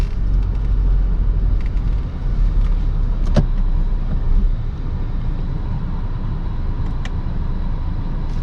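A Renault Megane IV RS accelerating in sport mode, its engine a loud, steady rumble heard close up with a few brief clicks, and no talking.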